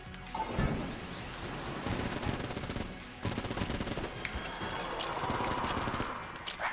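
Rapid gunfire in the video game Enter the Gungeon, with dense bursts of automatic shots and impacts rattling continuously for several seconds at close, loud level.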